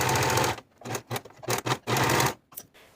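Sewing machine stitching seams on shorts, running in close, loud bursts of rapid mechanical chatter that start and stop several times, some long and some brief, with no voices.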